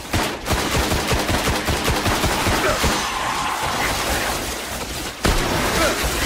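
In the video game Destiny, dense gunfire comes from all directions as rapid automatic bursts and single shots pile into a continuous loud barrage, with a sharp crack near the end.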